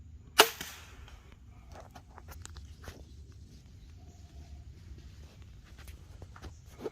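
A bow is loosed at a ram during a hunt on an Oklahoma hunting ranch, giving one sharp, close snap near the start. Quiet rustling and faint footstep-like ticks follow in an otherwise still outdoor setting.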